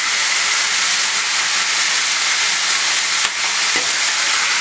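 Meat sizzling and frying on a saç pan for kavurma, a loud, steady hiss that runs continuously throughout with a brief click near the end.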